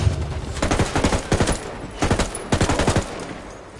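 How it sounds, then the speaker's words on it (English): Rapid bursts of automatic gunfire rattle in a shooter video game, three or four loud, tightly spaced volleys of shots separated by brief pauses, with no talking. "I'm opening fire on these shitheads."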